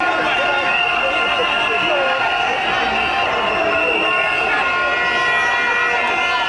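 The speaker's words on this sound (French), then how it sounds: "Maître Wade se lance dans un bain de foule" A large crowd greets Abdoulaye Wade on his arrival in Dakar, a dense, loud roar of cheering voices with whistles and horns sustained throughout, close and enveloping.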